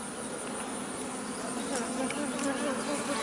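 A small swarm of honey bees in a hive infested with wax moth larvae gives a dense, continuous buzzing drone, close and steady, with no voices over it.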